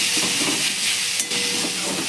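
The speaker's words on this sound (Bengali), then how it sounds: "শাক ভাজাটা মোটামুটিভাবে হয়ে গেছে, এবার লেগে যাচ্ছে, জাস্ট নাড়িয়ে" Water spinach (kolmi saag) fries in a pan and is stirred, making a steady hissing sizzle throughout with a faint stirring rustle.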